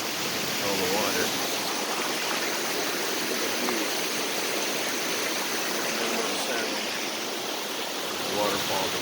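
Waterfalls spilling into a flowing stream in wild Crown Land forest, a dense, continuous roar of rushing water that stays steady and close throughout with no voices.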